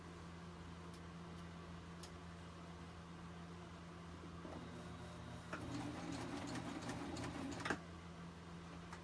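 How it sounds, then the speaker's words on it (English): A serger sewing machine stitches fabric in a quiet room, a faint steady mechanical hum with light rhythmic clatter that grows busier partway through. "put my fabric under, and I'll turn the serger towards you again"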